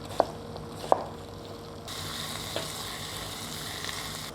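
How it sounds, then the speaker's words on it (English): Korean soybean paste and chili paste fry in oil, a steady hiss of sizzling that grows brighter partway through, with a couple of sharp clinks of a utensil against the pan near the start and no voices. "So while this is frying"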